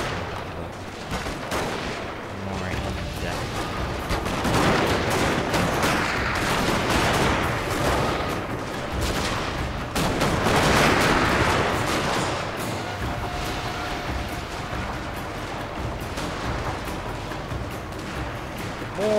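Dense battlefield din from Total War: Fall of the Samurai, with crackling musket volleys, scattered gunfire and occasional artillery booms blending into a continuous roar that swells and ebbs throughout.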